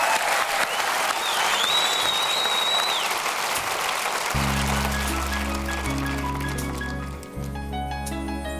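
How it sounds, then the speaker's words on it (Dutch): A studio audience on a Dutch television show applauds warmly and steadily, a dense near clatter of clapping that carries on as a piano and band begin playing underneath. "Geef een hartelijk applaus."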